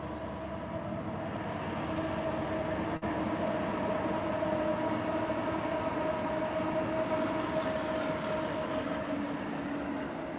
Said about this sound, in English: So this is a Burlington Northern Santa Fe Railroad.